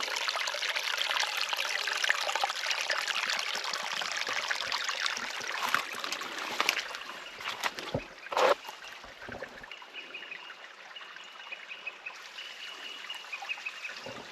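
Brook water trickling and splashing steadily over a beaver dam blocking the brook, a continuous close wash with a few brief louder splashes partway through.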